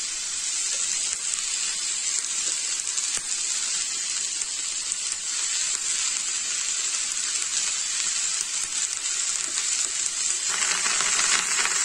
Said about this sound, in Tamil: முருங்கைக்கீரை சேர்த்து நல்லா வதக்கி விட்டுடுங்க